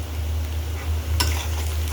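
Goat tripe frying with cardamom, cumin and salt in a pan, giving a soft continuous sizzle with one brief scrape of a spoon against the pan, no talking.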